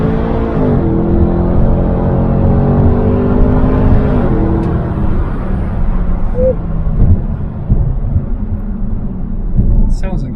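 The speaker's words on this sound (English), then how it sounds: "It's just gonna blow the tyres off, but fuck it, let's launch it." A supercharged BMW 645 launches hard with wheel spin, its engine roaring loud and close with rising, stepping pitch as it accelerates, then fading into a broad rumble and tyre noise.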